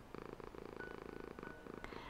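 A cat purrs close up in a quiet room, a soft rhythmic rumble that pulses steadily with each breath, with no voices.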